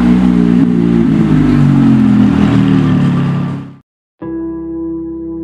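A Ferrari 430 Spider's engine revs loud and close with a rough, throaty roar that holds for several seconds before cutting to silence. Tonal music follows afterward.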